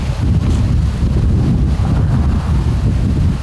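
Strong wind blows over a burning dry-grass fire on an island near a village in Saratov region, a loud continuous low rumble and buffeting against the microphone with no voices.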